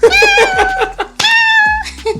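A person imitates a cat, producing a series of drawn-out, high meows with a brief gap partway through. The voice is close and loud, and there is no other sound around it.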